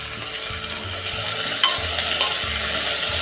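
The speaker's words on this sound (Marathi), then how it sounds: "ते आता एकसारखं चांगलं भाज्या मऊ होईपर्यंत परतून घेऊया" Brinjal, potato, tomato and bottle gourd sauté in a pan, a steady soft sizzle with occasional scrapes and light clicks of a spatula stirring the vegetables.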